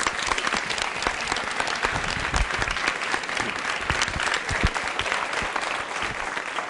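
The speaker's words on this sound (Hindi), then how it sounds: "भारती के लिए तालियां बजाइए सर" Steady rounds of audience applause at a school quiz show, a dense continuous patter of many hands clapping close by with no talk over it.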